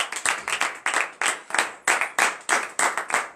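A church congregation at a morning prayer service in Comè, Benin, claps in praise, with about a dozen sharp, even hand claps in a steady quick rhythm, close and fairly loud, with no talking.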